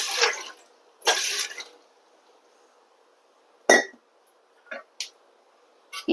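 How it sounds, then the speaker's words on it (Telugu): Water is poured into an idli steamer vessel in two short, soft splashing bursts, followed by a few faint clicks and taps close by, with no talking. "అందులో కొద్దిగా వాటర్ వేసుకుని"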